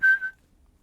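A person whistles two quick notes, a longer tone followed by a shorter one, imitating a father's homecoming call as he comes through the door; clear and close, then silence.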